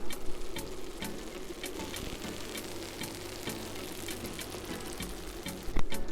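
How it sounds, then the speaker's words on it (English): Close, crackling sizzle from paella valenciana in a hot pan with scattered sharp pops over a low hum, steady throughout with a louder burst near the end. "I no longer hear bubbling, now I hear more of kind of like a sizzling"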